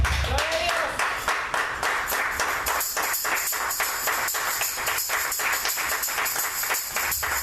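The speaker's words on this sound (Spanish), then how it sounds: "Bríndenle un aplauso, Señor" Congregation clapping during a church service, a steady, rhythmic run of claps in unison with voices mixed in, close and fairly loud throughout.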